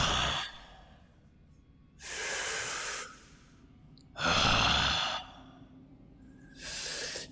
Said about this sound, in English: you can hear it breathing deeply.